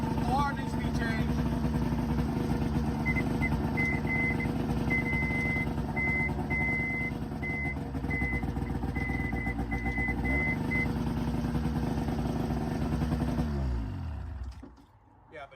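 A snowmobile engine runs with a loud continuous rough drone and a repeating beeping alarm over it, before the motor cuts off near the end. Voices talk over the engine.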